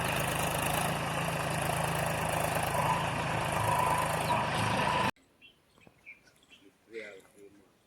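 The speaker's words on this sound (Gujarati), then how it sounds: "આ જો ટ્રેક્ટર ચાલુ" A tractor engine idles in a village, a steady close diesel drone for about five seconds before cutting to quieter surroundings with faint bird chirps and a brief voice.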